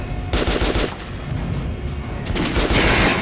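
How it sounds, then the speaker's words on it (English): Rapid gunfire from the Metro Last Light Redux video game, aimed at a training dummy's chest: several bursts of shots, loud and close, with brief pauses between volleys and no talking. "Try shooting with the center of the regular dummy's chest."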